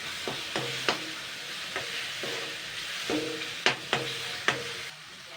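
Paste of vegetable peels from potato, pointed gourd, pumpkin, bottle gourd, green banana and ridge gourd frying in a little oil, with a steady soft sizzle broken by repeated sharp scrapes and taps of a spatula stirring in the pan.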